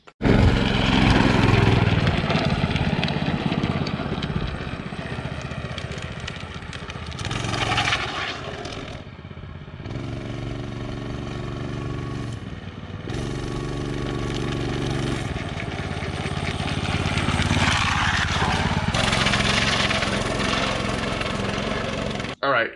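Homemade trike with a small engine running steadily and loudly throughout a ride, a continuous buzzing drone that rises and dips in pitch as the throttle changes, with no one talking.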